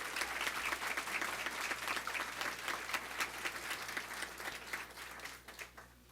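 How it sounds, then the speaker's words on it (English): A round of applause from the audience at a Board of Education meeting, dense clapping that holds steady and then thins into scattered claps before fading out. "Let's give her one more round of applause."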